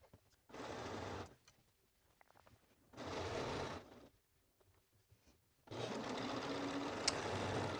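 A sewing machine stitches a shirred panel on a dress in three separate bursts of rapid whirring, each about a second or two long, with quiet handling sounds in the pauses between.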